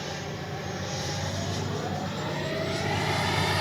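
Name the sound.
FMS Avanti S 90mm RC jet flying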